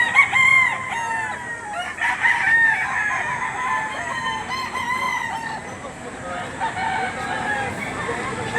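Chickens and roosters at a Lipa livestock auction market, with repeated crows and clucks overlapping steadily throughout, fairly close and loud, over a busy crowd murmur.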